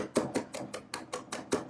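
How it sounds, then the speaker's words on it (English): A knife rock-chops garlic with salt on a cutting board, making about eight evenly spaced, crisp thuds in a steady rhythm, close and clear with no talking. "So here I am rock chopping again."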